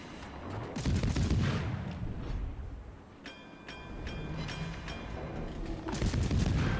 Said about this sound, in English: Do a bit of blind firing.